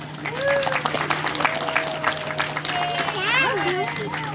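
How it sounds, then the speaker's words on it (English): An audience at a Vancouver aquarium beluga whale show claps in a steady round of applause, with excited voices, shouts and children's squeals mixed through it and a constant low hum underneath. "can we give them all a nice warm welcoming round of applause?"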